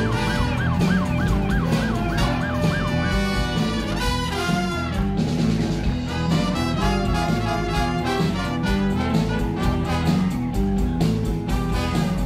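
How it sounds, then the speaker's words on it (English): A wailing emergency siren cycles up and down continuously, loud and close, layered with a second rising-falling tone and traffic noise. "I think I hear a siren."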